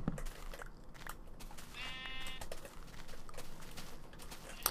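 A single brief sheep bleat from the video game Minecraft rises over constant clicking and keyboard tapping with steady background noise.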